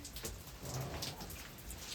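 Rain falls during a multi-day bivouac in the Aveyron countryside, a soft continuous patter spread evenly across the clip, faint and without speech.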